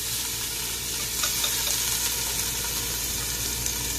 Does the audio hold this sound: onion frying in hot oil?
yes